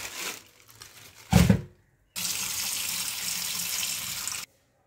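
Tap water gushes steadily into a kitchen container to soak tilapia fish, a continuous splashing stream lasting a couple of seconds after a brief clatter and short burst of pouring.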